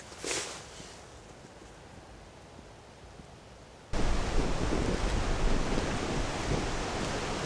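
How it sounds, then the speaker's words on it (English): Strong wind blowing across a campsite during an overnight camp, a steady broadband rushing roar that stays fairly faint at first and then jumps abruptly louder and more buffeting halfway through, with no voices. "The wind's blowing quite strong"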